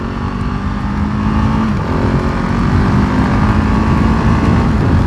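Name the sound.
KTM 690 Enduro R motorcycle engine revving while riding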